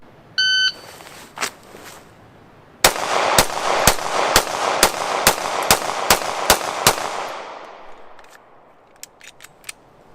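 Pistol shots in a shooting drill test: a timer beep, then a rapid string of about eleven sharp, loud, evenly spaced gunshots, followed by fainter clicks.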